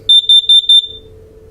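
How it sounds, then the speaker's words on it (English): A propane (LP) gas detector runs its self-test with four loud, evenly spaced, high-pitched beeps, then falls silent while a faint low hum continues underneath. "It just has a little test button, and it goes through a test inside to make sure that it's operating correctly."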